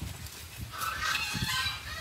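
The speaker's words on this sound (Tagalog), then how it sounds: "Ang ingay ng pabo ng kapitbahay, pero okay lang." A neighbor's turkey on a mango farm gives a faint, distant warbling gobble, a couple of brief bursts over quiet background.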